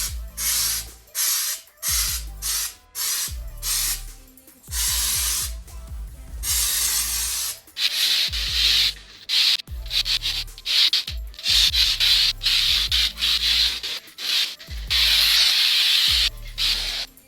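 A can of spray snow shaken hard in repeated bursts, the mixing ball rattling in rhythmic, gritty scrapes with brief pauses between rounds, close and loud with no talking.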